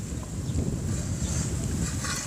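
Strong wind blows steadily across an outdoor spot, a constant low roar and microphone buffeting that fills the whole stretch with no clear voices.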